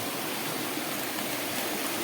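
A mountain stream near Boton Falls in Subic rushes steadily over rocks, a constant close broadband wash of flowing water with no break, heard alone without voices.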